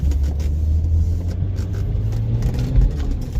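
A 2.5 TDI V6 diesel Audi A6 Allroad accelerates from inside the cabin, a deep, steady engine rumble with slight surges, loud and continuous without talking.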